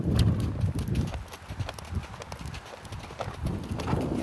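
A Standardbred mare canters with a rider aboard in an enclosed area, her hoofbeats a quick rhythmic clip-clop on soft ground, close and moderately loud, with no talking.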